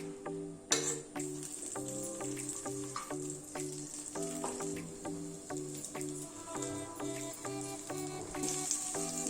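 Capsicum pieces frying lightly in a pan for a keto veg burger, a steady close sizzle with popping crackles and occasional stirring clatter, no talking.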